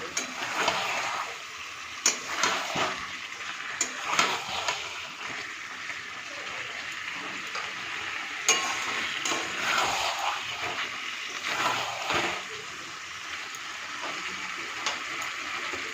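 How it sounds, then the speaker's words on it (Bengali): Potatoes sautéing with spice paste in a pan give a low, steady sizzle broken by occasional scraping clicks of a spoon. "এই মশলাটাকে আলুর সাথে ভালো করে কষাতে"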